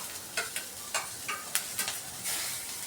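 Onion, coconut and ginger roasting together in a pan, a quiet sizzle broken by a run of distinct spoon scrapes and taps at an uneven rhythm, close and clear with nobody speaking.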